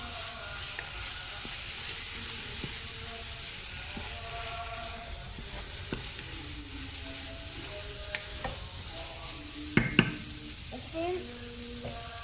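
Small pieces of meat sizzle and hiss in a hot pan while being stirred, with steady frying and occasional scraping clatters, close and continuous, with faint background sounds underneath.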